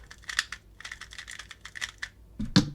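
A Cubicle Labs XingHen 2x2 puzzle cube clicks and clatters in rapid bursts of turns, close and fairly quiet, ending with a louder snap.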